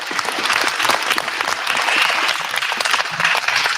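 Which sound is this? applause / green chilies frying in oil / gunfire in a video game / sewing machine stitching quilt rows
applause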